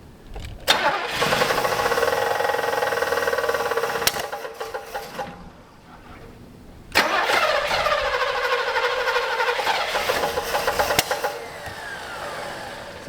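Forgotten V8 Buick LeSabre cranking and firing up twice, running rough with an uneven, sputtering idle before cutting out, then restarting and stumbling along, loud and close.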